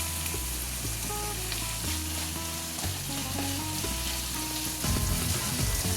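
Onion, tomato and leaves sauté in a hot pan, a steady close sizzle with occasional stirring, running beneath continuous tonal music.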